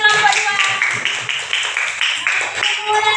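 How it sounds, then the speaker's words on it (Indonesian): Children in a classroom clap together in rhythmic bursts to applaud group 2, with voices audible through the steady clapping. "Kasih tepuk tangan untuk kelompok 2."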